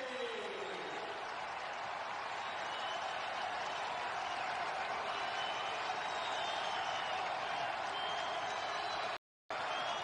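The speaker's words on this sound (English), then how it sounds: "Now you hear the crowd." Crowd at a college basketball arena, Dayton versus Davidson, roars and cheers after a three-point shot. The sound is a steady, broad wash with a brief dropout near the end.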